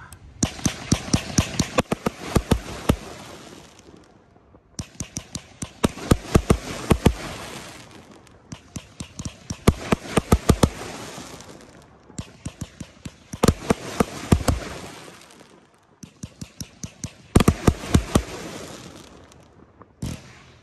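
A 36-shot Brown Rap firework cake fires in four or five rapid volleys of loud, sharp cracks, each burst of sharp reports separated by brief pauses, over roughly twenty seconds with no voices.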